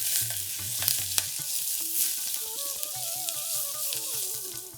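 Pounded garlic, curry leaves and asafoetida sizzle in hot oil for South Indian rasam rice while a spoon stirs them, with a bright crackle throughout, a few utensil knocks and a soft melodic tone running underneath.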